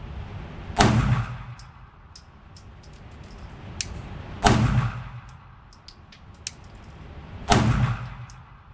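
Three loud, sharp pistol shots from a Sig P226 Mk25, spaced several seconds apart, each with a quick echoing decay, and faint clicks and handling noise between them.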